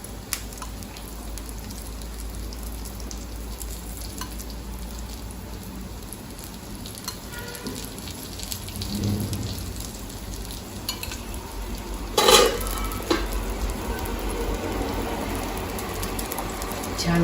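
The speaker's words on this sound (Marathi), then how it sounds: "आता कटल्याच्या दुसऱ्या बाजूनी पण थोडंसं आपण तेल सोडून घेऊ" Oats cutlets shallow-frying in oil in a pan over a medium flame, a soft continuous sizzle with faint clinks and a brief louder clatter midway, low and close with no talk.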